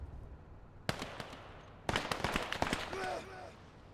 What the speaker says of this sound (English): Now people are shooting at me